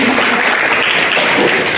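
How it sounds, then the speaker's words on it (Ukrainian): Loud, dense applause fills an awards ceremony for a flipchart competition, a continuous close wash of clapping with no voices over it. "а ми дякуємо вам, звичайно ж аплодуємо"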